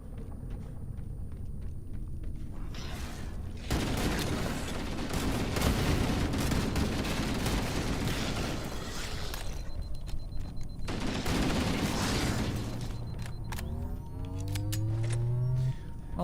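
Magnum pistol fire in the Halo campaign comes as dense bursts of gunfire and impacts amid game noise, with a quieter stretch between two loud volleys and electronic tones near the end.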